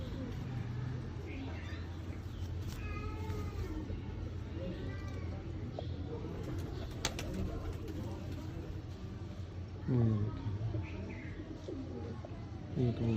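A red-eyed breeder male pigeon and other pigeons coo in low repeated rolling phrases, fairly close, while someone talks over them and a faint background hum persists.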